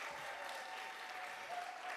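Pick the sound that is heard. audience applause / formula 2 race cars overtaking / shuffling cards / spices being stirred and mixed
audience applause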